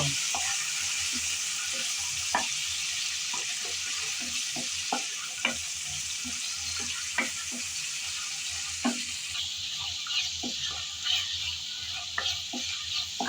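Ginger garlic paste fries in hot oil for a pickle, giving a continuous close sizzle broken by frequent soft scraping and clicking strokes of a spoon stirring in the pan.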